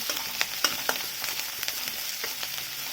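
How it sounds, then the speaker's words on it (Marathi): Chopped onion and garlic fry in a pan for masala bhindi: a soft, steady sizzle with a few sharp clicks of stirring near the start, fairly quiet throughout and with no voices. "असे बारीक तुकडे करून घेतले आहेत ते घालायचे आहेत आणि मला छान दोन मिनिट भाजून घ्यायचं आहे"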